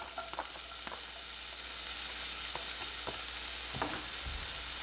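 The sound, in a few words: onions and sausage frying in butter in a pan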